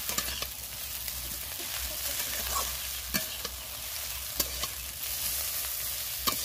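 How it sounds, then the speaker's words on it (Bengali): Egg chow mein with soy sauce is stir-fried in a pan: a constant sizzle carries repeated sharp spatula clacks and scrapes at irregular intervals, close and moderately loud. "একটু ভালো করে নিয়ে নেড়ে ভেজে নেব।"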